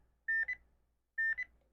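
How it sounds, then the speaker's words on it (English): Two separate short electronic beep pairs from a Scott C5 bone conduction mask's volume control at maximum volume, each a steady tone followed by a brief second chirp, clean and close with quiet between. "when it gets to max volume, it'll double beep"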